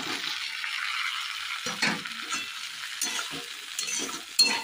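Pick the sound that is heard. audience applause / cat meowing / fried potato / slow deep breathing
fried potato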